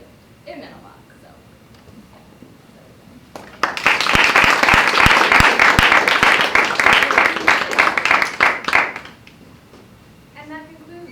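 An audience at an evening internship and research slam event applauds the participants, a loud, dense round of clapping lasting about five seconds after quieter speech, then dying down as talking returns.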